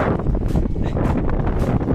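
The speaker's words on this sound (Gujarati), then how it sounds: "પવનનો થોડોક અવાજ જાજો આવતો હોય છે" Steady broadband wind rushing and buffeting across the microphone in the Little Rann of Kutch salt desert, continuous and fairly loud throughout with no clear gaps.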